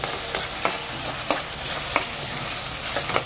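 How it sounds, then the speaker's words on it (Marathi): Onions fry steadily in a pan for egg biryani, a constant close sizzle broken by regular spoon scrapes of stirring roughly every half second or so. "कांद्याला व्यवस्थित भाजून घ्या"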